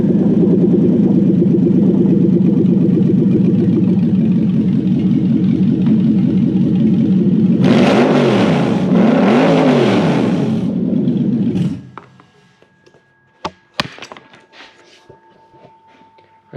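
A Toyota 3UZ V8 engine is started on a plug-and-play setup, then runs at a loud, close idle. It rises through two quick revs, then shuts off, leaving only a few faint clicks and knocks.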